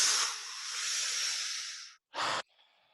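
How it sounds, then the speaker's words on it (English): A breathwork exercise with a two-part inhale, heard as a long, loud, airy breath drawn in through the mouth. A short pause follows, then a second quick, sharp inhale stacked on top of the first, and then a faint tail. No one speaks. "It's like a two-part inhale, something like this."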